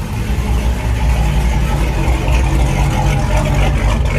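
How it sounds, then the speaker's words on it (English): A forged 392 HHP engine fitted with a Whipple supercharger idles loudly up close, a steady deep rumbling drone with slight uneven pulsing from the cam. "Once it starts up, its idles pretty good,"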